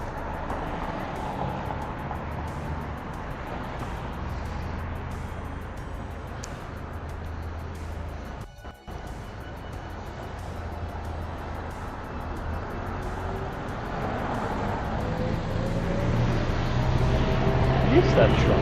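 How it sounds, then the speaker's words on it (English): Noisy garbage truck on a street in Newington, Sydney, a loud continuous engine rumble and drone that swells toward the end, with talking over it. "it's just that garbage truck there. Noisiest truck in the world."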